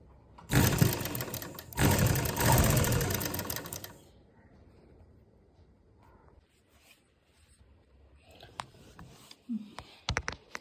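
A sewing machine runs lace onto the hem of a garment in two loud, close bursts of rapid stitching, followed by quiet handling and scattered clicks.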